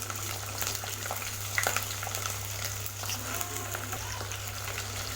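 Ten to fifteen whole small onions fry with a sprig of curry leaves in a pan for fenugreek kuzhambu, giving a steady, even sizzle and crackle close by.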